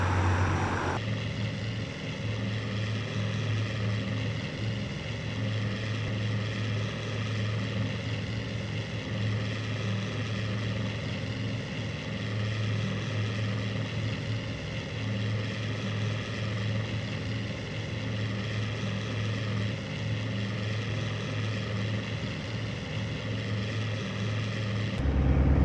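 Formation of nine Do-17 bombers flying at low altitude, their propeller engines giving a loud, steady droning roar that holds without a break.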